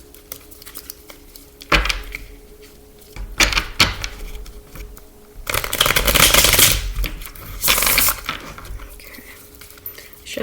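Tarot cards riffled and shuffled in several bursts, the longest in the middle, with soft taps and rustles between them, close by and with no talking.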